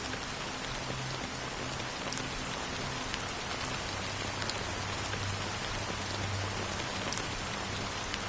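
Rain in the video game Honkai: Star Rail falls in a dense, steady hiss on a hard surface, loud and continuous throughout, with scattered sharper drops.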